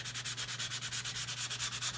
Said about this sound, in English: grab my sanding block again,